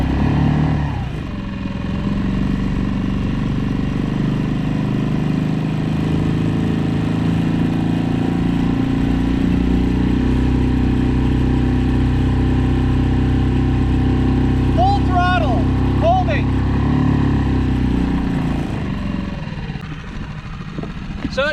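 Small outboard motor on a dinghy running steadily at half throttle, a continuous close, loud engine drone holding the same pitch throughout, with brief faint squeaks near the end.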